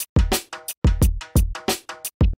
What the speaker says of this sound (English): So here's what the drums sound like with no processing.